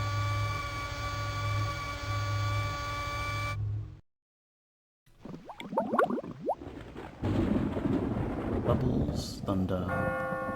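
Thunder sound effect played on a tuned-in radio station: a steady hum, a brief silence, then rumbling, crackling bursts of thunder rising in intensity.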